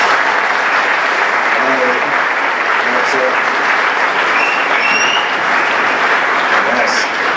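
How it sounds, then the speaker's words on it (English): Loud, sustained audience applause at a talk event welcoming a guest speaker, dense, even clapping from a large crowd filling the whole stretch without a break. "Everyone clap it up for Zach Clayton"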